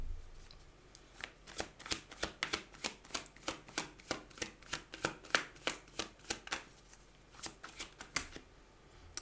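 Oracle cards being shuffled for a card reading, a steady run of crisp, papery riffles and flicks repeating about every third of a second, close and fairly quiet with no voices.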